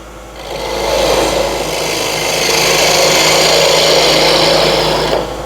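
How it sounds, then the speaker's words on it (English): A small ball gouge cutting into a spinning twig pot on a wood lathe, a steady scraping hiss layered over the motor's hum that swells up after a second, holds loud and even, then eases off at the end. "Back with a small ball gouge"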